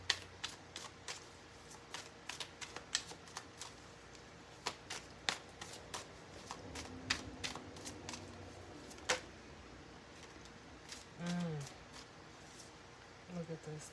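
Tarot cards shuffled by hand in a quiet room, a long run of crisp, irregular snaps and flicks, some in quick bursts, close to the mic with faint talk at low level.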